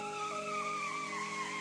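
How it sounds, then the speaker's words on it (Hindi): A car skids and swerves across the road in a sound effect: a sustained tire squeal slides slowly downward in pitch over a steady engine drone, loud and continuous, with no voices. "गाड़ी बैलेंस बिगड़ने से पूरे रोड पर इधर से उधर लहराने लगी।"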